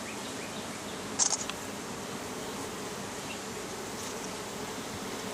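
Honey bees hum steadily throughout, close and continuous, with a brief louder buzz as one passes near during a beehive inspection; no talk is heard over it.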